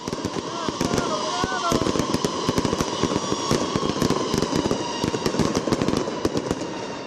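Fireworks go off at dawn in Piazza Borgo during a saint's feast, a dense continuous crackle of sharp bangs and pops lasting throughout, with crowd noise underneath.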